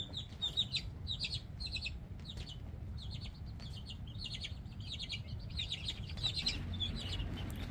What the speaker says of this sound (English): Little baby chicks. And they're about 4 weeks old now.